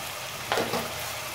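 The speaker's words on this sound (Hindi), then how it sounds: "देखिए हमारा मसाला कितने अच्छे से पक चुका है, ये तेल छोड़ने लगा।" Masala sizzles and spatters in hot oil in a pan while chicken curry is cooked, a steady close frying hiss with a brief louder burst of stirring midway.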